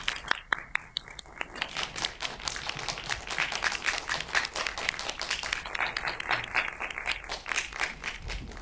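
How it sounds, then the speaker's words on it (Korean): Audience applause greeting guests at an indie film talk event for the movie 'Seed of Violence' in a cinema, a steady crowd of clapping that holds throughout, dense and moderately loud. "박수로 맞이해 주세요."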